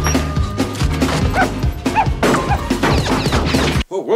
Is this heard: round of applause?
no